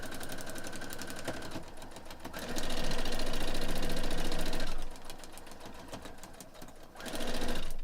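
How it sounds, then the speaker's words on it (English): A sewing machine runs a quarter-inch seam through fabric for foundation paper piecing, its rapid rhythmic stitching heard close in two loud bursts with quieter mechanical handling between them. "We can do a 1/4 inch all the way out there and sew this all the way down."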